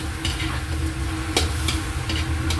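Garlic and onion sautéing in a pan give a loud, dense sizzle, broken by a few clattering stirs.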